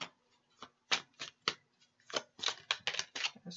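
Tarot cards shuffled by hand during a monthly card reading, a run of crisp riffling bursts and flicks, close and fairly loud, with no talk.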